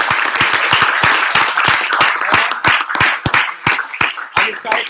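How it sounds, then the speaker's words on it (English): An audience at a COC event applauds itself. Sharp individual claps ring out in quick, uneven bursts, mixed with murmuring voices and growing looser toward the end. "Can you give yourselves a round of applause for today?"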